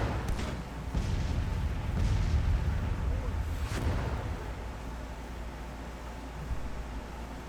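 Artillery battery firing in Grand Tactician, a Civil War strategy game: a few dull booms over a steady low rumble of battlefield ambience, moderately loud and distant-sounding.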